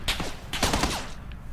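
A quick volley of gunfire in PUBG, several sharp overlapping shots packed into a second and a half, loud and close.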